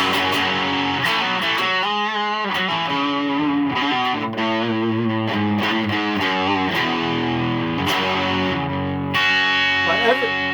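An electric guitar runs through the Funny Little Boxes 1991 overdrive pedal, built to recreate a classic album's guitar tone, playing gritty, sustained distorted chords and riffs with bright harmonics, loud and continuous for the whole stretch.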